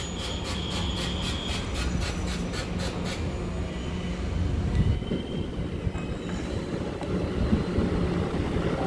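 A ten-car silver-green EMU936 commuter train passes close by with a loud, steady rumble of wheels on rail and a brief high squeal near the start, with no one speaking.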